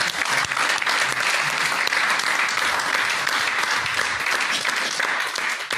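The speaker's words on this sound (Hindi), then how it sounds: "एक बार शानदार तालियां, ईमानदारी है।" Applause from a hall audience at a network marketing training seminar, loud, dense and sustained throughout without a break.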